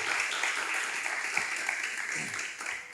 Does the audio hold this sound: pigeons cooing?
no